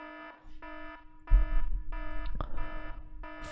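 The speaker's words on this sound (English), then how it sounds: "Yo, that's quite some cringe alarm" A repeating electronic alarm beeps in regular pulsed bursts, joined partway through by a low throbbing rumble, with no one speaking.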